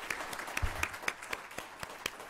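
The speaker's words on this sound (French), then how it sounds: "On peut l'applaudir." Faint, sparse applause from an audience at an academic colloquium, individual claps spaced out in a loose rhythm at a distance.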